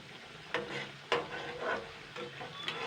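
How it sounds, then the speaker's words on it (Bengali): Khaja pastries fry in oil over medium heat, bubbling and sizzling steadily up close, with a few sharp knocks as they are turned. "এটা উল্টে পাল্টে ভেজে নিতে হবে"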